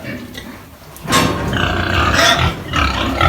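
Young pigs, piglets a few weeks old, grunting and squealing on a livestock farm, a burst of loud, close grunts that starts after a quiet moment and carries on in uneven bursts.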